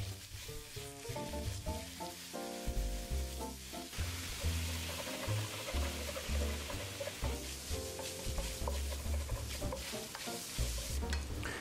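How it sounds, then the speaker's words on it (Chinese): Pork stir-fries over medium-low heat in a dry wok without oil, its sizzling and stirring heard under prominent background music. "我希望是用这个中小火去煸炒这个猪肉，让它自己本身的油脂呢可以被释放出来"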